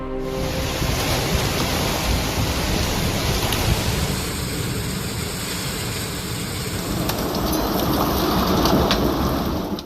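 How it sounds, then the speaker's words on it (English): Severe storm with hail pounding down west of St. Louis, Missouri, a loud dense roar of hailstones and rain filling the scene continuously, with deep rumbling underneath and no voices. "Hail slammed some parts of Missouri just west of St. Louis amid severe storms."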